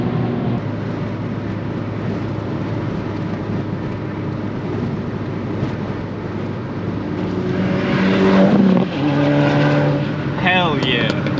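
A Volkswagen MK6 GTI pulling hard from inside the cabin, its engine and exhaust droning steadily and rising in a throaty rev toward the end, with people talking over it.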